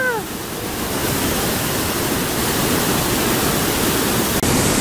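Powerful rushing river through a narrow rock gorge at the Estrecho del Magdalena, a loud, steady, close roar of churning water with no pauses.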